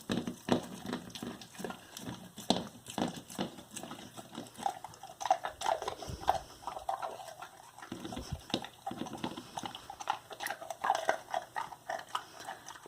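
A dog eats homemade pumpkin pie set on the floor at Thanksgiving, with close, steady wet chewing and soft biting clicks running through the whole stretch, moderately quiet, with no talking.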